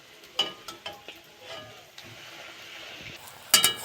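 Cauliflower luchi frying in hot oil, soft intermittent sizzling with a few clinks and scrapes of a utensil against the pan, ending in a brighter metallic clatter.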